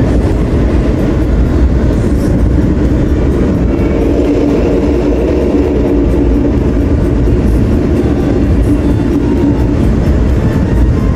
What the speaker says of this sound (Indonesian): Kereta api tambahan 10121 yang akhir stasiun Gambir akan tiba dan berhenti di stasiun Purwokerto